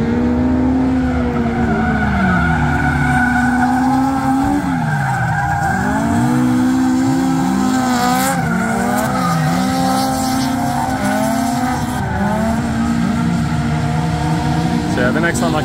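AE86 race cars scream past at YZ Circuit, engines rising and falling through gear changes, with tires squealing through corners; loud and continuous.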